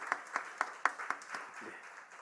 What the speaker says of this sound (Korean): 우리 한번 환영의 박수 한번 하도록 하겠습니다